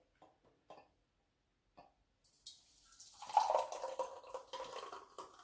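A homemade butterbeer mixture poured into a container, a soft liquid splashing and gurgling stream starting after a few faint clicks and growing fuller, close and moderately quiet.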